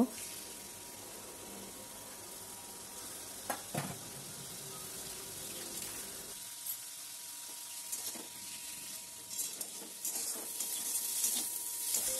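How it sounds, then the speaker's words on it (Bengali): Prawns frying in a little oil, a faint soft sizzle with occasional stirring clatter and a brief burst of water near the end. "এবার অল্প তেলে আমি চিংড়ি মাছটা আগে ভেজে নেব"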